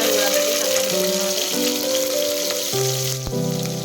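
Cumin seeds, cinnamon and cloves sizzling in hot oil in a pressure cooker for tomato bath, a steady close crackling hiss with a faint voice underneath and a brief clatter near the end.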